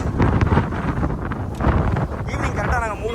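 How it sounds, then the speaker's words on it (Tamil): Strong seashore wind at Dhanushkodi buffets the microphone in loud, roaring gusts throughout, with a voice speaking underneath. "நல்ல காற்று."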